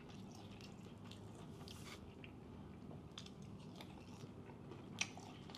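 Close-up chewing of fried fish at Peewee's Crab Cakes in New Orleans, soft crunchy bites and squishy mastication repeating steadily against a low restaurant background hum, with one sharper crunch near the end.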